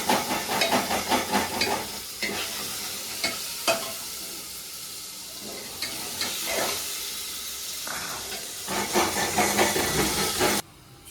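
Cumin seeds sizzle and hiss on a hot tawa in a home kitchen, a steady frying crackle broken by stirring scrapes and clinks, with no talk.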